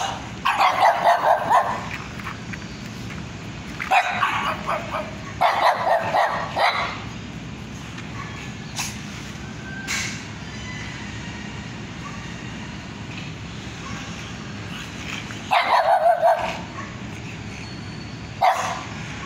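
Two guard dogs at a house in the Mekong Delta countryside bark in short, loud bursts close by, with pauses of quiet between the volleys.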